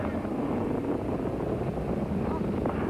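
Space Shuttle Challenger's launch roar, main engines throttling up, heard as a steady, dense rumble with wind-like noise throughout, continuous and fairly loud with no clear break.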